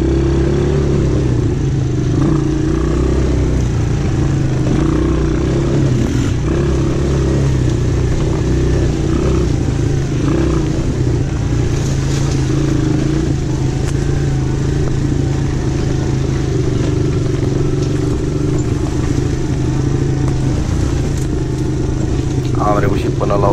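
A KXD 200 cc ATV engine runs continuously while driving off-road, loud and close throughout with steady mid-range droning and rattling clatter, with occasional voices underneath.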